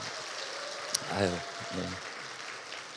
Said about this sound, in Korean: 어제 저녁보다는 좀 박수가 작아진 것 같아서